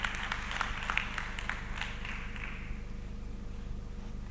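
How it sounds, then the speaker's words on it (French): Audience applause at a French-language conference on children and screens during an associations day, a steady mass of clapping that starts fairly loud with a few sharper claps and then settles into an even, sustained patter. "Merci de bien vouloir les applaudir"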